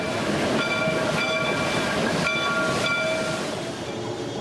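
A Shay steam locomotive train rumbles along steadily at a West Virginia scenic railway, with rhythmic clacking and a faint high whistle tone over the constant mechanical roar.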